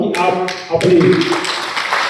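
An audience at an NCR zone meeting claps throughout, a steady rattle of applause running under someone speaking into a microphone.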